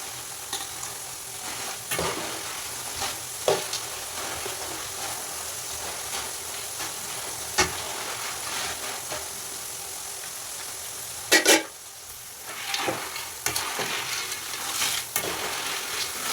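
Jackfruit chips frying in hot oil, a dense continuous sizzle and crackle close by, with occasional sharp clinks and stirring scrapes of a slotted spoon against the pan, and no voices.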